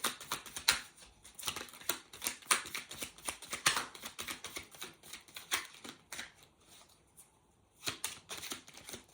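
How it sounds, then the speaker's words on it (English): Dense, crisp riffling of tarot cards being shuffled, in repeated quick bursts with brief pauses, close and fairly quiet. "let's have a little shuffle and see what card wants to find you"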